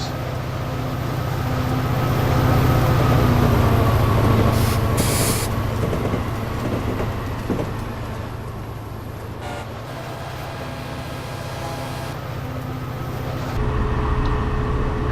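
In Train Simulator, a train rolls along with a loud continuous rumble and hum while another train passes, swelling and then receding, with brief hissing bursts and a sustained horn-like tone over the steady rail noise.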